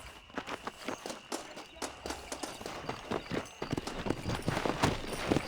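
A horse gallops across open country in the video game Red Dead Redemption, its hooves pounding out a fast, steady clip-clop rhythm that stays close and clear throughout.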